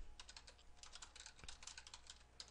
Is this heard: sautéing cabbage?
no